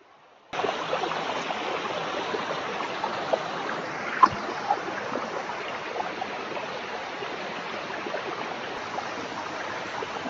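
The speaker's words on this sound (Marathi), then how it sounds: "आता आपण वरती आलोय धबधब्याखाली" Gothe Khalati waterfall in Mandangad, Maharashtra, pours down in a steady, loud wash of broadband rushing water that starts abruptly and holds constant without a break, close by.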